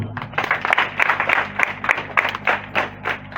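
Applause from an audience at a ceremony handing over a school building, a dense, steady patter of many hands clapping at close range, with no voices heard.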